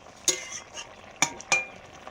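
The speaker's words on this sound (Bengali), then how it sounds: "ধীরে ধীরে মাংস কষানো চলছে, ঢাকা দিয়ে দিয়ে।" Desi chicken slowly sautéing in a covered pot gives three sharp metallic clinks of a utensil against the pot, well spaced, over a faint background hiss.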